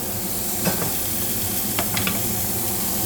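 Chopped onion sizzles and fries in a pan slick with rendered chorizo oil, a steady broad hiss with a few sharp scrapes of stirring, close and fairly loud throughout, with no voices.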